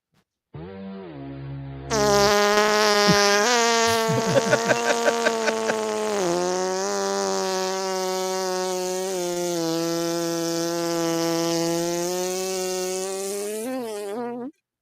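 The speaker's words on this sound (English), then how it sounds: "All right, Corndiff, give me a whammy sound." Press Your Luck whammy sound effect played back: a loud buzzy, tonal cartoonish blare with a sputtering fart-like stretch near the start, sustained for about twelve seconds before ending abruptly.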